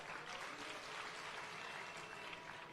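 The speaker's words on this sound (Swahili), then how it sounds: "Pigeni makofi." A large crowd claps at an outdoor political rally with President Ruto in Migori, producing a steady, dense wash of applause that holds evenly through the whole stretch with no talk over it.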